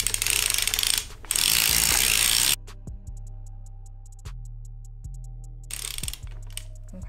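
A 60-stitch circular sock knitting machine is cranked slowly on its first pass, making loud, close bursts of rapid ratcheting clatter, then sparse metallic ticks and clunks, then another burst of ratcheting near the end, with no voices.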